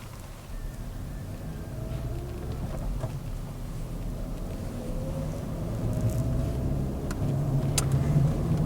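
Suzuki Swift 1.2 Dualjet, a 90-horsepower 1.2-litre hatchback, rolling along with a steady low road and engine rumble that builds slightly, tire noise over the drone heard from inside the cabin.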